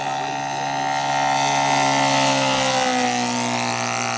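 A radio-controlled scale aircraft roars past fast at an outdoor model show, its loud steady engine drone holding throughout, with a slight pitch drop toward the end as it passes.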